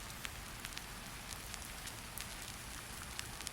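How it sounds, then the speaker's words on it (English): Steady rain falls at night in a soft, continuous patter, with faint scattered drops ticking over a low, even wash of noise that never changes in level. "The rain keeps time with it."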